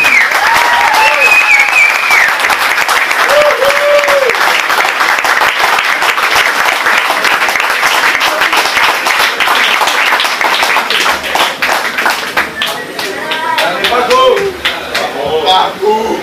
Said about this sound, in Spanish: ¡Fuerte el aplauso para La Pecosa!